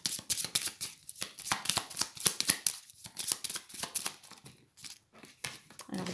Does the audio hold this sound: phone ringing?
no